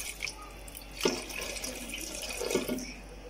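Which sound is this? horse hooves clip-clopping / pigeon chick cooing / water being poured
water being poured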